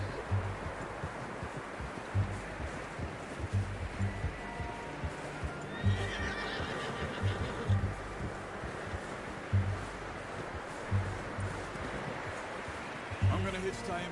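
A horse's hooves clip-clop at a steady, unhurried walking rhythm, and a drawn-out neigh rises near the middle, all outdoors against soft wind and rustling.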